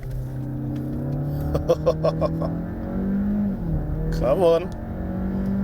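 A Volkswagen Tiguan R-Line SUV with a 1.5-litre turbocharged engine accelerates hard, its engine note rising steadily up close while someone talks over it.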